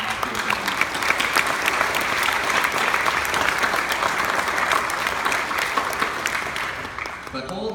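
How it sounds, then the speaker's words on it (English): An audience at a valedictorian graduation speech applauds the school's teachers and staff, dense sustained clapping at a steady level that eases slightly near the end. "I ask you to take a minute to give a round of applause to the teachers and staff"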